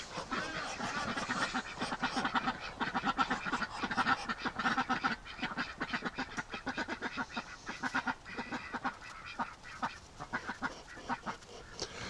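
Muscovy ducks squabble up close as a fight breaks out when a drake returns to the pen, a dense run of rapid honks and quacks overlapping in bursts, with no pause in the noisy flock chatter.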